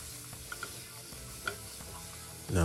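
Aromatics sauté in vegetable oil and extra virgin olive oil for a jalapeño-poblano hot sauce: a short burst of close, steady sizzling with a few light scrapes and a louder rustle at the end.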